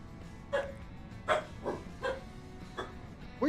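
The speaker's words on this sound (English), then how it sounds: "What are you barking for?" A dog in the Farming Simulator 25 video game barks in short single woofs, about six of them spaced roughly half a second apart, each one close and fairly loud over a low background.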